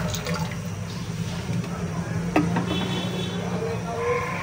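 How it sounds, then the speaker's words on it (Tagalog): Water pours into a jar while shallot pickle is being made, a steady close trickle and splash with a few drips, and a voice is faintly present underneath. "At lalagyan natin ng ganun din pong karami ng tubig."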